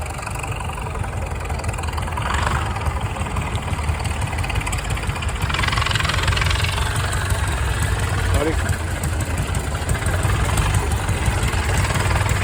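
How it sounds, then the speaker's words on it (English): An old Caterpillar grader engine idles in a steady, low rumble outdoors at an antique dozer show, constant and moderately loud with faint background noise throughout. "There's an old Caterpillar grader."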